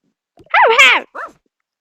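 A pet dog in a room of a newly moved-into home gives a short, loud yelping bark followed by a brief softer second yelp, close to the listener.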